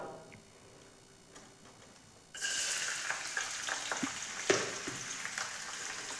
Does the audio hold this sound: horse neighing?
no